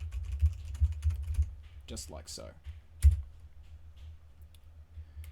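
A computer keyboard clatters with quick runs of key presses and a firm final tap, partly overlapping someone speaking briefly.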